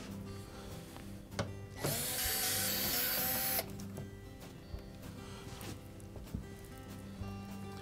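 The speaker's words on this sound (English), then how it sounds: "remove the 6 1/4-inch hex head screws that secure the" A powered driver backs out hex head screws from the back cover of a Frigidaire refrigerator, with a loud whirring burst of about two seconds between softer clicks and handling noises close by.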